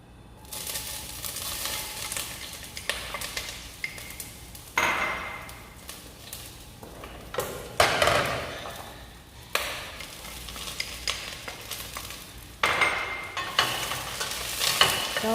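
Eggplant sizzles in a hot pan while a utensil stirs it, with bursts of crackling frying that come and go amid scraping and clinks of the pan, fairly quiet and without talking.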